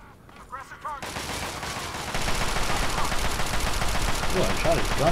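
Gunfire in the video game Fallout 3, during the Operation Anchorage simulation: dense, continuous automatic shots that swell louder midway, with brief talk-like sounds near the start and end.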